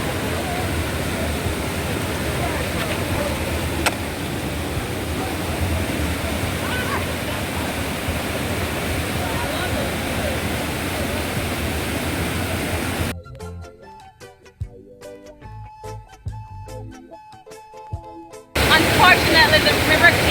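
River water rushes and churns steadily beside an outdoor bush cooking site as a constant hiss, with a few seconds of near silence partway through before the flow resumes.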